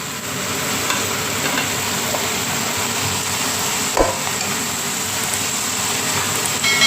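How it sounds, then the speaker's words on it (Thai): Holy basil and sliced red chili being stir-fried with shellfish in a hot pan, a steady close sizzle with scraping stirs throughout and one sharper clatter midway, no voices. "ผัดผักสลบ แล้วก็ปิดไฟได้เลยค่ะ"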